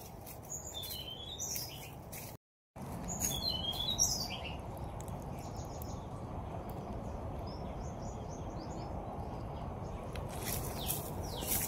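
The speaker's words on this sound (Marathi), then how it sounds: "आवाजसुद्धा तुम्हाला खूप साऱ्या पक्ष्यांचे येतील." Various birds chirp and call faintly over a steady bed of broadband noise in a dense planted Miyawaki forest, with scattered short calls heard throughout.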